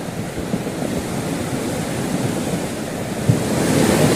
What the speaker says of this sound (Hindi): हल्द्वानी में गौला नदी लगातार रौद्र रूप में दिखाई दे रही है।